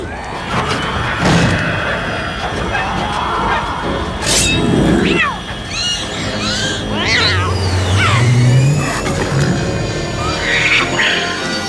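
A kitten meows several times amid a busy, noisy background with clatter and other sounds, the mews rising and falling in short bursts.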